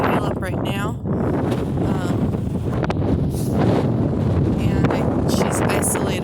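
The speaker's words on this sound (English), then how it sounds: "it sure is windy" Strong wind gusts on a farm during a wind storm, buffeting the microphone with a heavy, constant roar through the whole stretch, with a voice speaking briefly underneath.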